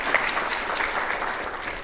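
An audience at a school district State of the District event applauds, a brief burst of steady, fairly close clapping from many people.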